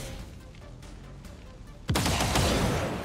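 Gunfire in the XCOM 2 strategy game, quiet ambience and soft ticks, then a sudden loud burst of rapid fire shots that stays dense and forceful to the end, no talking.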